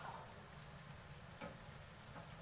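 Pieces of mutton hit onions already frying in oil, giving a steady, close, even sizzle with a slight crackle, continuing without talk.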